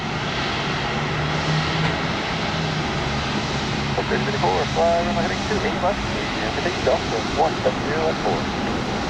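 A Boeing 737 MAX airliner arrives at Columbus airport with a loud, steady engine roar that fills the whole stretch, while people talk over it nearby.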